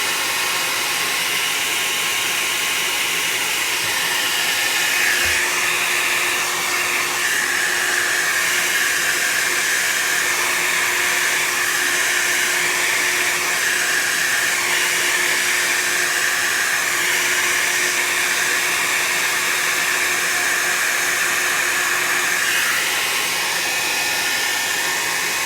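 Steady loud whoosh of a hair dryer blowing over alcohol ink artwork, a continuous broadband roar held at a constant level throughout with no talking.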